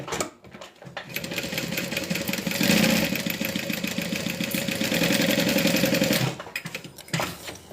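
A sewing machine stitches a wristlet in one continuous whirring run of about five seconds, close and fairly loud, with rapid needle clatter. It starts and stops abruptly, with no talk.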